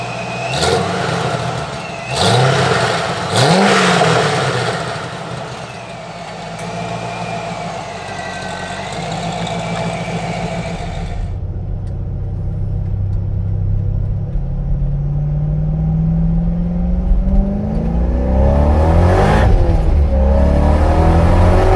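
A supercharged Chevrolet C5 Corvette with an A&A/Vortech setup, driven while cold, revs loud and close, then settles into a steady deep rumble that swells as it accelerates, with no talking.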